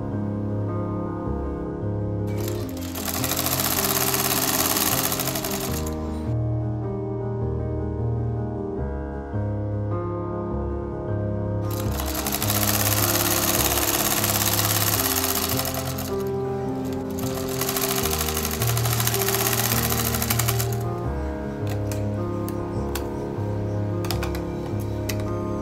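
A sewing machine stitches elastic onto a baby frock in two long, steady runs of rapid mechanical whirring, close and loud, separated by short quieter pauses with lighter handling noises.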